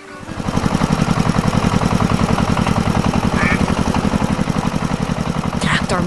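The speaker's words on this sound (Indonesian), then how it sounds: "Suara mesinnya menggema di tengah keheningan pagi hari." A red tractor's engine chugs in an animated farm scene, a loud, steady rhythmic putter running continuously from start to finish.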